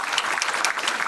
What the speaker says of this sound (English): Let's give another round of applause to Tracy.